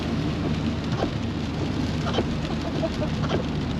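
Torrential rain in Scotland pours down in a dense, steady roar, with no talk over it.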